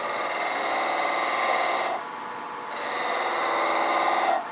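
A woodturning tool cutting a spinning workpiece on a lathe, a steady close scraping rasp that eases briefly mid-way and then resumes.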